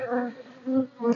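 A honeybee swarm buzzing close by, a dense droning hum that swells and fades in waves over a brief moment, heard alone without speech.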